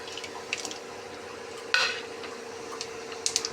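Whole spices drop into hot oil for a tomato-based gravy, bringing a brief burst of sizzling among light clinks of utensil on pan under a steady background hum.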